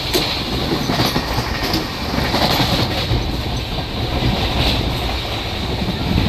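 A night passenger train runs steadily on the rails, heard from inside the carriage as a loud, constant rumble with rattling and clickety-clack of wheels, with no talking.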